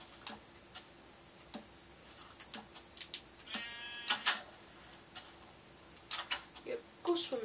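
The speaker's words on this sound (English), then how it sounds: "Come on, sheep, what do you want?" Blocky sheep in Minecraft bleat a few times at moderate level, mixed with game ticking and clicking sounds while a person talks intermittently.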